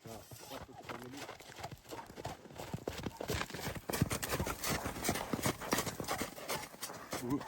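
A mare's hooves clip-clop steadily on a hard surface, close by, while people talk over them throughout.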